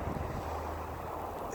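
Steady wind buffets the microphone during a Canadian snowstorm, a continuous low rumbling roar with no breaks, close and fairly loud throughout.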